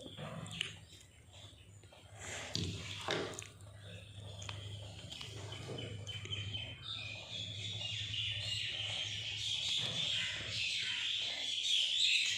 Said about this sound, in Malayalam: നിങ്ങൾക്ക് നിറയെ കിളികളുടെ സൗണ്ട് കേൾക്കാനുണ്ടോ ഗൈസ്?